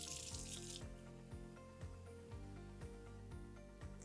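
Tap water runs steadily into a bottle at a sink, a faint continuous stream with soft regular knocks and clatter through it.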